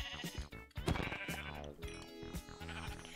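Sheep bleat in the video game Minecraft: a couple of loud, wavering bleats close up, one after another over a few seconds, with no talk over them.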